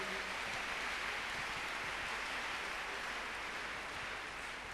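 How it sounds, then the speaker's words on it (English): A church congregation clapping hands together, a dense continuous wash of applause-like claps from many people filling the room, steady throughout. "Clap your hands unto God of the chosen."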